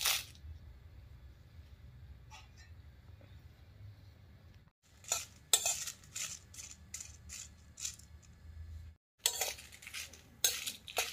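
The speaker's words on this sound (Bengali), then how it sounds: "এখন শুকনো লঙ্কাটা ভেজে নেব আগে।" Dry red chillies are roasted in a hot, dry kadai, with faint scraping and clinking bursts of a spoon stirring against the pan, separated by quiet pauses.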